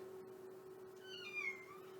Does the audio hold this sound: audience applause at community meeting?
no